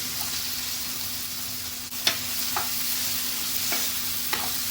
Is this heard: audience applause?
no